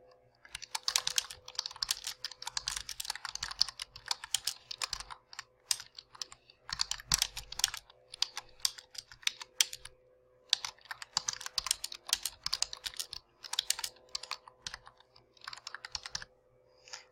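Steady typing on a computer keyboard as a title is entered, quiet close clicks in quick runs broken by short pauses, with no one speaking.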